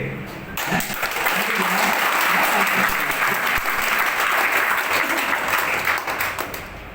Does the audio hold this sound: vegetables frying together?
no